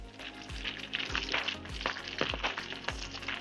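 Brussels sprouts frying in rendered guanciale fat, a faint, steady sizzle with crackling pops and a few soft stirring knocks, no talking.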